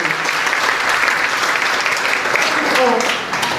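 An audience at a girls' life-building camp claps loudly to cheer the girls on, dense continuous applause filling the room, with faint voices mixed in.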